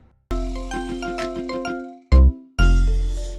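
A phone rings with a bright chiming melody of quick, repeated bell-like notes, loud and close, followed by two more sharp ringing bursts.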